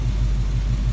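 A Dodge Duster engine idles steadily with a deep, even low rumble and a faint pulsing throb, close and continuous with no talking.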